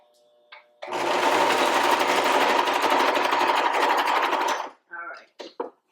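A sewing machine runs a fast, steady stitch for a few seconds sewing elastic casing on a cloth pocket diaper, loud and close, then stops with a few short clicks and bursts of handling.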